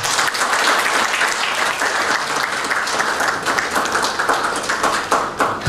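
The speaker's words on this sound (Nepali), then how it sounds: "यहाँको जोरदार ताली कृपया" Loud, sustained audience applause at a third anniversary program in Nepal, dense clapping from a crowd continuing steadily throughout.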